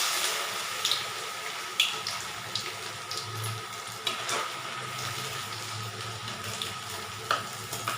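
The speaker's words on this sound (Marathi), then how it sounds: "आता यांना तळते." Potato finger chips for French fries frying in a pan of hot boiling oil, a steady crackling sizzle with soft bubbling and occasional light clinks, fairly quiet and with no one talking.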